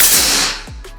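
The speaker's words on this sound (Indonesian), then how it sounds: "Kita coba tembakan pertama" A single sharp air rifle shot from a Tactical OD38 or Bocap 500 cracks loudly up close, followed by a brief fading tail.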